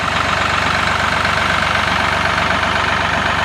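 A mower engine runs steadily while cutting a clover food plot, a loud continuous drone with a rumbling low end and no talking.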